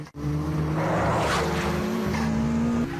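A Toyota AE86 drifting through a corner in a street race from the film Initial D, engine roaring at high pitch while tires squeal, followed by a shifting engine tone, loud and close for about three seconds.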